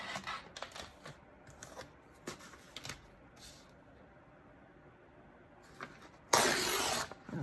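A single paper page tears out of a notebook, a loud broadband rip lasting about a second near the end, after several quieter paper rustles and handling sounds.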